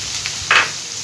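Chili being added to hot oil already frying onion and garlic, a continuous close sizzle with a sudden louder hiss burst midway as it hits the pan, no voices.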